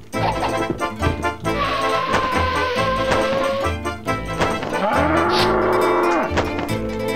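Bull mooing in the video game Bugs Bunny: Lost in Time, a loud drawn-out bellow with a pitch that dips and rises, set over busy game music and effects.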